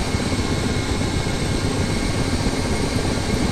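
Black Shark helicopter at full thrust in DCS World, a steady, loud, dense rotor and engine roar that stays even and unbroken throughout.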